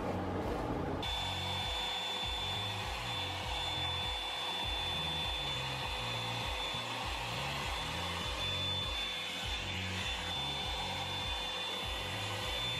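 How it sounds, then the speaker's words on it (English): A hair dryer blows steadily and loudly up close, a continuous whirring rush with a fluttering, pulsing undertone as it is used for a blow-out, with no voices. "I love how that blow dryer makes my hair look"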